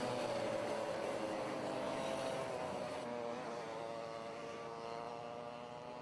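Racing cars on a formation lap at the Llandow circuit make a steady engine drone that rises and falls gently as they pass, moderately loud throughout, with no talk.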